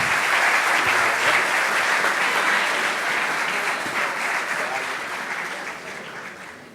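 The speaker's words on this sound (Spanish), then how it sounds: "Un fuerte aplauso para recibirlo, Pablo." An audience applauds loudly to welcome speaker Pablo Larguía, a dense wash of clapping with some crowd voices mixed in, fading gradually toward the end.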